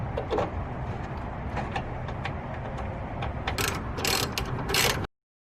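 Ratchet clicks come up close as the TEIN coilover top nuts on a Miata are tightened, a run of quick strokes followed by a few harder bursts before the sound cuts off.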